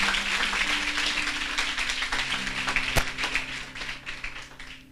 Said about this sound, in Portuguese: Você pode aplaudir com mais amor, querido?